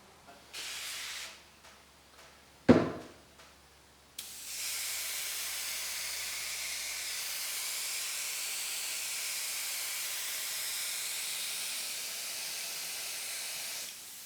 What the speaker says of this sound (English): If you're using urethanes like what I'm doing, a generic glass cleaner works awesome.